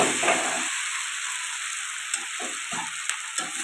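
Pre-fried potatoes stir-fried with chicken giblets in a pan, a loud close hissing sizzle running throughout, with spatula scrapes and stirring pulses growing busier in the second half.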